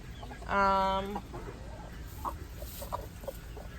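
A Barred Rock chicken gives one loud, harmonic squawk or cluck up close, followed by softer scattered clucks and faint coop noises.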